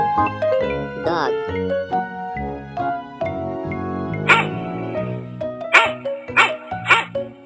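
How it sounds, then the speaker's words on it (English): A dog barks several times in quick yipping bursts near the end, after a stretch of cheerful children's music carrying throughout. "Dog."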